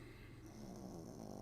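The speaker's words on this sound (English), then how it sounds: "That's my dog snoring." Faint, low rhythmic snoring from a dog, soft and close, with a quiet steady hum in the background.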